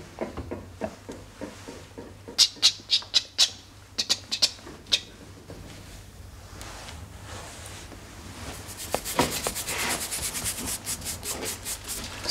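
A toothbrush scrubbing an ancient stone sculpture, with rapid rhythmic rasping strokes that come in quick bursts, then a denser, steadier stretch of brushing near the end, close up.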